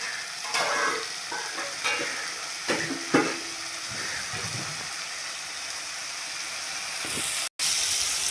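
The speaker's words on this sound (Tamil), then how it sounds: "வெங்காயம் தக்காளி நல்லா வதக்கலாம்" Onions and tomatoes sautéing in a pan for a chicken liver gravy, with a steady close sizzle and occasional scraping stirs, no talk, ending in a brief cut.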